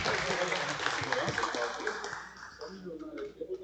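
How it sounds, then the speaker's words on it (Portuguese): An audience at a Brazilian entrepreneurship talk claps for the mediator being introduced, a busy patter of clapping mixed with voices that fades out after a few seconds. "Uma salva de palmas, gente."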